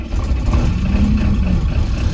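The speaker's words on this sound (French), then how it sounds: "On va démarrer le camion." A truck engine running after brake bleeding work, idling steadily with a low, continuous rumble close by; the start itself is not distinct.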